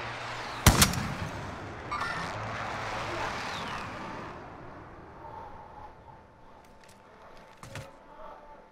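A sharp, loud gunshot bursts from a Call of Duty Warzone battle, then a long rumbling echo rolls out and dies away, followed by a few fainter distant shots.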